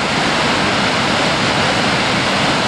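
The Boulder River near Big Timber, Montana roars as it rushes out of the ground, a loud, steady, dense wash of turbulent whitewater with no pauses and no voices.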